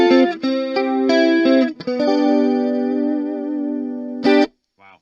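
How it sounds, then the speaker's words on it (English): Electric guitar notes and chords through a CoolMusic BP-MINI with the chorus turned all the way up ring out with a lush, shimmering effect, sustained and wavering, ending with a brief strum. "Here's with the chorus all the way up."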